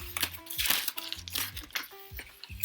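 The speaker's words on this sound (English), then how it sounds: "Let's unwrap them." Close, continuous crinkling and rustling of wrapping as ultraviolet beads, kept covered from the sun, are unwrapped by hand, with short crackly bursts.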